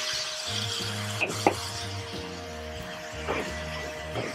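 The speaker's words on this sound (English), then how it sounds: "Give it a good stir to get everything up off the bottom" A spoon scrapes and stirs leftover chicken curry with light coconut milk in a pot, soft scraping strokes across the bottom under a steady background hum, close and fairly quiet.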